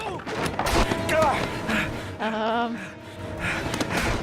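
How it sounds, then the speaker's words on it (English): Shotgun fire in the video game Heavy Rain, heavy blasts and thuds mixed with panting, gasps and someone talking over the action. "He's using a shotgun."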